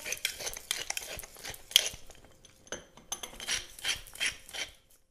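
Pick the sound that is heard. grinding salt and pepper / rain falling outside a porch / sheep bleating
grinding salt and pepper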